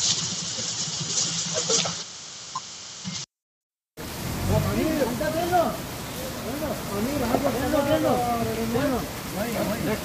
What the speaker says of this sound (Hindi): ये आप देख सकते हैं बारिश हो रही है